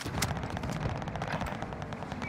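Rapid SMG fire from a multiplayer shooter rattles continuously for about two seconds, dense and loud in short overlapping bursts, with no voices.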